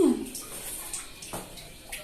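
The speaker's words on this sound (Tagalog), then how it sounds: "ikaw talaga nag-iwan ng bukas ng tubig dito?" Water runs from a tap left open in a bathroom under construction, a steady close splashing wash under faint voices.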